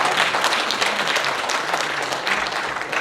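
An audience applauds at the 106th anniversary ceremony of the proclamation of the Korean Declaration of Independence, a dense, steady wash of clapping that stays full for about three seconds with no pause.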